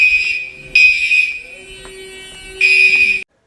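A hotel fire alarm sounds in loud, piercing electronic blasts, starting and stopping in bursts with a steady lower buzz underneath through the gaps.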